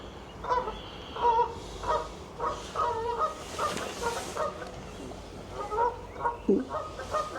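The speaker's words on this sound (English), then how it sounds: "Bit of Canada goose action." Canada geese calling in an outdoor territorial fight, with repeated harsh honks coming in bursts throughout, moderately loud and fairly close, and no talk over them.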